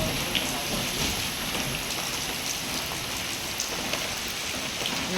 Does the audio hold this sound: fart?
no